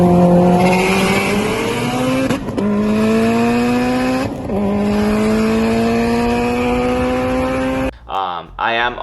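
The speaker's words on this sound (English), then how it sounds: "So the wastegate flutters like midpoint." Turbocharged Subaru with an external wastegate dumping to atmosphere, loud nearby engine pulls with rising pitch, three surges broken by brief fluttering chatter as the throttle lifts, ending in rough choppy bursts.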